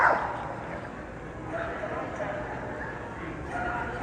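Pit bulls at an ADBA dog show in Athens, Tennessee give a few scattered barks and yips in a noisy outdoor crowd, with people talking throughout.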